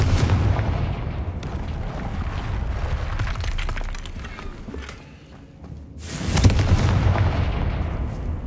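Spell explosions and blasts from Hogwarts Legacy combat during a dragon attack, loud booming bursts over constant game music and rumble, with a big burst near the start and another around the two-thirds mark.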